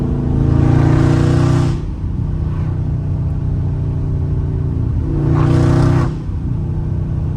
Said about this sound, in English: That's the one, the downshift I was talking about.